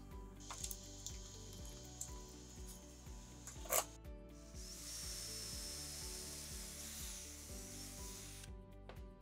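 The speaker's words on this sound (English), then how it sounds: "Now, I'm gonna loosen up the jig and slide it to the B position." Woodworking joinery jig being loosened and slid to a new position in a workshop, brief faint scraping and clicking with a sharp knock midway, then a soft sustained hiss, all under a steady low motor hum.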